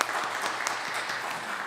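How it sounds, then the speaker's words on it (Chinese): A church congregation at a Christmas Sunday service claps for the choir, a short burst of dense, steady applause from a roomful of people. "咱伫遮用鼓掌甲咱诶圣歌队多谢一下吼"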